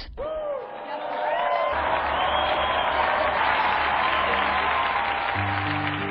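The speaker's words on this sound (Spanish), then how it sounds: "Brindemos nuestro vivo aplauso a San Juan de Brébeuf y compañeros mártires" Sustained applause from a large audience honoring Saint Jean de Brébeuf and the martyr companions, swelling after a brief start into steady dense clapping with some cheering, a tonal voice at the outset and a held note near the end.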